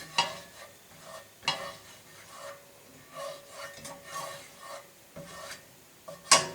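Margarine melting in a pan on the stove while a spatula stirs and scrapes it, soft intermittent scraping and rubbing strokes with a faint sizzle, quiet and close, no talking.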